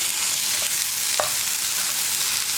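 Chopped tomatoes fry in masala with a steady loud hiss filling the pan, while a spoon stirs through them with a couple of soft scraping knocks. Nobody speaks.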